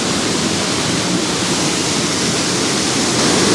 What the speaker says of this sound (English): Power of that waterfall is just amazing.